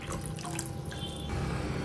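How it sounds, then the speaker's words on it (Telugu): Water poured into a pot of Telugu buttermilk curry (majjiga chaaru) seasoned with a warm tempering, a steady close trickle and splash running alone and growing slightly fuller near the end. "ఇప్పుడు ఇందులో ఇంకొంచెం నీళ్లు వేసుకుందాం"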